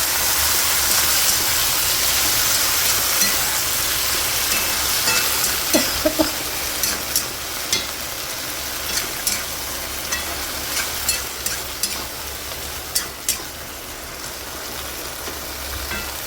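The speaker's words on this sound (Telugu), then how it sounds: "కరివేపాకు ఎండుమిరపకాయలండి వేసుకుని వేయించుకోవాలి" Curry leaves and dried red chilies frying in hot oil for a ladyfinger (okra) curry: a steady sizzling hiss with scattered sharp crackles and pops that grow busier midway, close and moderately loud, with no talking.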